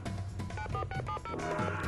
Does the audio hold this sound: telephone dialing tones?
yes